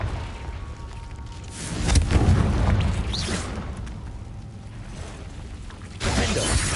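Confringo blasting spell in the Hogwarts Legacy game, a loud booming burst with crackling debris that swells and fades, then a second blast near the end, set in a cave, no talk.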